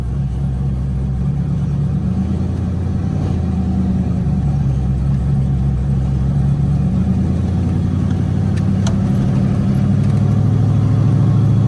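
A truck with a 6.5 engine cruises down a street, its steady low engine drone and road rumble heard from inside the cab, continuous and even throughout with no speech.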